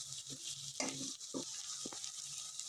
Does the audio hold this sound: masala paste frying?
yes